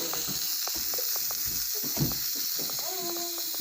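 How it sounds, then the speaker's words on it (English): Steam hissing from microwaved mac and cheese, a steady broadband hiss with faint crackling and scattered clicks, close and constant throughout the short stretch. "There is steam everywhere."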